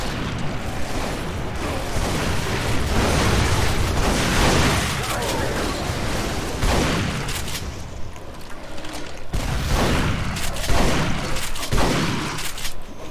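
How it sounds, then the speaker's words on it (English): Rockets firing and exploding in the first-person shooter Duke Nukem Forever, a dense, continuous barrage of booms and blasts with mechanical clatter throughout, loud and close, with a few sharper bursts near the end. "Don't shoot rockets at me."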